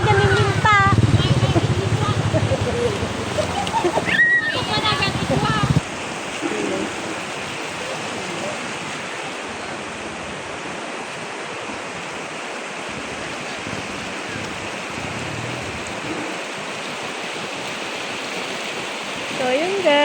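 River water rushes and splashes in a steady, full wash that fills the whole stretch, with louder, busier churning and brief voices over it in the opening seconds before it settles into an even flow.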